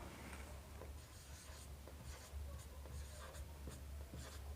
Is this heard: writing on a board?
yes